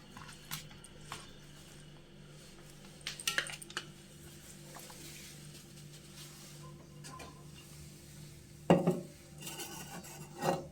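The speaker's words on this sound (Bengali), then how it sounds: "একদম অল্প করে একটু সরষের তেল দিয়ে দেবো। ব্যাস, ভালো করে মাখিয়ে নিলাম মাছগুলি।" Pabda fish being rubbed by hand with a little mustard oil, a soft, quiet rasping of slick handling, with faint clinks from a dish or bowl and a louder scrape near the end.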